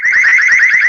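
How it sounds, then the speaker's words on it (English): Loud home security alarm siren sounding right up close, a piercing warbling electronic tone that wavers rapidly up and down without pause across the whole short burst. "the alarm siren is going to go off here"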